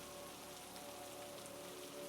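Steady, persistent rain falls on a cabin, a dense even wash of drops with no break or voices throughout.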